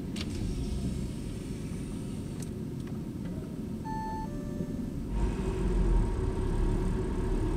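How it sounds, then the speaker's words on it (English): A car emerges from an automated intelligent parking system amid steady machinery and engine rumble, with a few short electronic beeps midway and a swell of louder motor noise near the end. "so the car comes back out"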